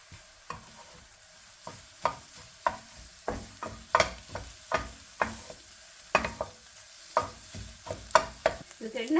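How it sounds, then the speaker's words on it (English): Kottu roti is stir-fried with scrambled eggs, Sri Lankan street-food style: a brisk, irregular series of sharp metal clanks and scrapes over a light sizzle, close and loud, with no talking. "We're going to scramble the eggs together whilst mixing it with all the other ingredients."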